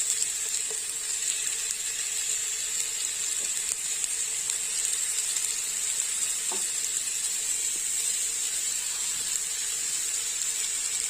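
Spicy minced-meat golla kebabs fry in a pan over slow heat, giving a steady close sizzle and hiss throughout, with a few faint utensil taps and no talking.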